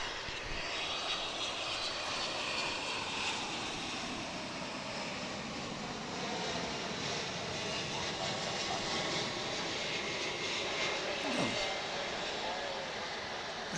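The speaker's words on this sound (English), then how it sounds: "Got a flight coming in from Austin, Texas now" A UPS Boeing 767 cargo plane arriving at DFW International Airport, its jet engines giving a broad, steady distant roar that fills the whole stretch at moderate loudness.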